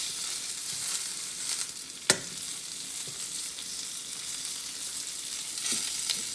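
Asparagus spears sizzle and fry steadily in a pan, a continuous close hiss with one sharp clack near the two-second mark and a few softer knocks as the spears are turned.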